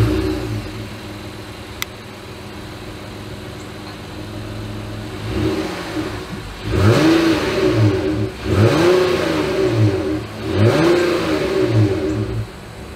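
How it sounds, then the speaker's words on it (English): A 2022 Honda Odyssey minivan exhaust idles, then revs three times in a rising and falling rhythm, close by and loud. "As always, here is that exhaust clip."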